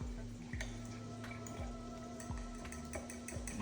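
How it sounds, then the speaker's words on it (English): Oxtail gravy being stirred in a pan, with a steady soft sizzle and faint scraping strokes repeating at a regular pace alongside a constant low hum, quiet and without speech. "So we're just gonna mix this up like this here."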